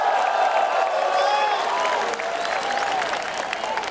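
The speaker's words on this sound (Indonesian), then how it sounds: "Tepuk tangannya dahsyat penuh rasa cinta." Loud, sustained applause and cheering from a large crowd at an Indonesian political gathering, dense and continuous, with voices shouting within the noise.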